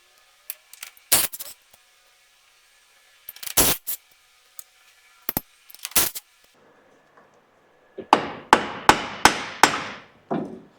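Steel hammer tapping a drive shaft off the front differential of a Toyota Hilux: a few scattered sharp metallic knocks, then a quick run of five or six ringing taps close by, with no talk.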